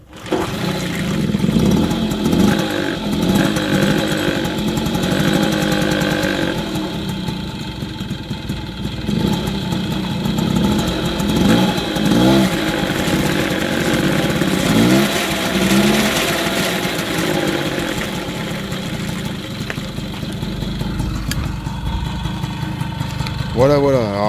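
Old MBK or Motobécane moped engine starting and then idling roughly, a loud, close, uneven two-stroke putter that barely holds idle, with someone talking over it.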